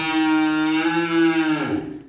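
A 10-month-old Holstein Friesian heifer calf on a farm gives one loud, close, sustained moo that tapers off after about two seconds.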